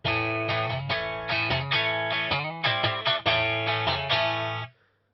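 Strat-style electric guitar through a Marshall 100-watt amp with the mid boost switched off, playing loud, sustained distorted chords in a steady rhythmic pattern with brief breaks, then a clean cutoff near the end.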